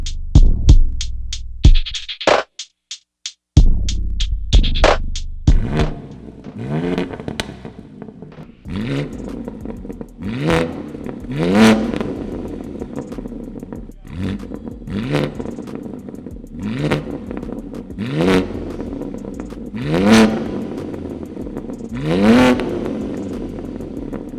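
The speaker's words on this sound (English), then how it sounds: "You've just heard the car revving." A BMW M3 Touring with a single mid-pipe exhaust, parked indoors, is revved repeatedly; after a few sharp blips it settles into a series of rising and falling revs about every two to three seconds, loud and close.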